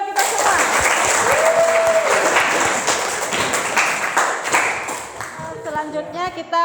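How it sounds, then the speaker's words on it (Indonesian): Classroom applause fills the room as a group claps together, steady and loud throughout, with some voices mixed in and a brief tone partway, the clapping thinning toward the end. "Oke, tepuk tangan dulu buat kita semua."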